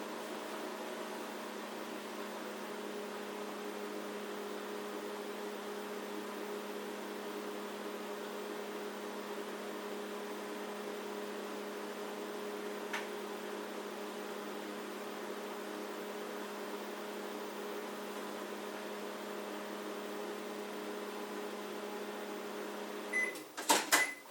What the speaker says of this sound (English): you put in the microwave.